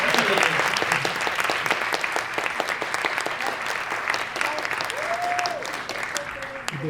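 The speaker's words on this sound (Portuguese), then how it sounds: "Salve de palmas!" Applause from an audience at a Brazilian film discussion event, dense steady clapping sustained throughout, with some voices and cheers mixed in.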